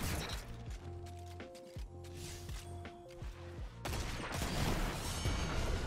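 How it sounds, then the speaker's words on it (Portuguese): Gunfire in the video game Destiny 2, a rapid run of sharp cracks with ringing mechanical tones over a dense, noisy game soundscape, swelling louder toward the end. "Um tiro."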